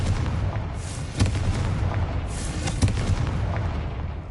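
Blasting-spell explosions from Confringo in the video game Hogwarts Legacy on PS5, two loud booming bursts about a second and a half apart over a dense, rumbling game soundscape.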